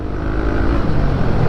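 A Honda café racer scrambler-style motorcycle engine running loud and close, a dense low rumble holding steady through a short burst with no voices.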